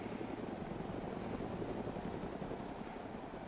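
A helicopter in the DayZ mod video game flies with a steady, continuous rotor thrum and engine drone, moderately loud and unbroken throughout, with no talking.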